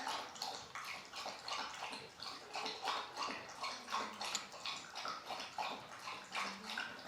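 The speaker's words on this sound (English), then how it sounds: "That's my dog drinking water." A dog laps water steadily with rapid, wet splashing licks, close and continuous, a rhythmic sloshing that keeps going throughout, in a kitchen.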